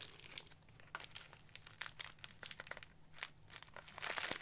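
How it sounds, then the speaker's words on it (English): Plastic packaging peeled and crinkled off a 1/6 scale Walker figure, a close series of quiet rustles and crackles in quick irregular bursts that grow busier and louder toward the end. "And let's get all the plastic bits off of this Walker figure."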